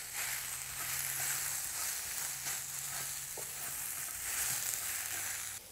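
Minced garlic, mustard seeds and curry powder being stirred in a hot pan for tomato onion relish, a soft continuous sizzle with occasional light scraping clicks, no voices.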